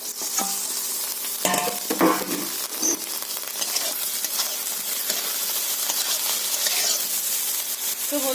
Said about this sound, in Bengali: সিম আর বেগুন আমার ভাজা হয়ে গেছে, আমি তুলে নিচ্ছি